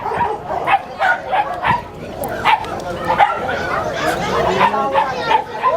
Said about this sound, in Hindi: ये देखिए बहुत सारा कुत्ता इधर आपको देखने को मिलेगा